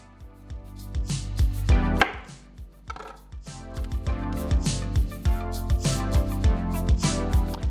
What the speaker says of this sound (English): we just need to finely slice the garlic